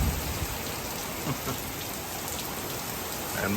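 Steady rain falls in a dense, even hiss of drops hitting surfaces, with no one speaking.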